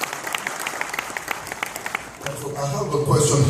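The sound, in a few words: applause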